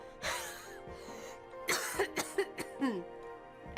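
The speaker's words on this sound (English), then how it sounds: "at the end, I do a huff cough" A series of breathy huffs and coughs, close and fairly loud, several sharp bursts in quick succession after a longer exhale.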